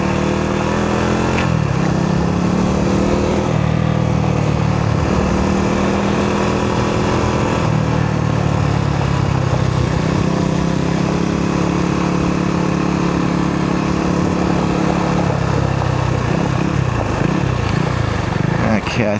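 A Husqvarna Svartpilen 401 motorcycle rides off-road on a gravel trail, its engine droning steadily and loudly from close by the whole time, with shifting pitch as the throttle rises and falls, plus wind and crunching gravel.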